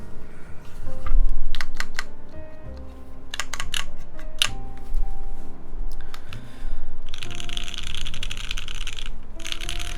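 Someone types on a polycarbonate TGR Alice mechanical keyboard, giving crisp, close keystroke clicks in irregular bursts. A steady hum sits beneath the typing, and a denser, hissier rattle of keys comes near the end.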